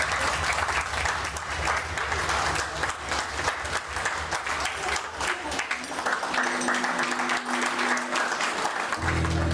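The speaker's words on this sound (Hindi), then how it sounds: "ताली बजाइए, ताली बजाइए।" Guests applaud during a wedding jaimala garland exchange, a continuous crowd clapping that runs throughout, with a brief tonal sound near the end.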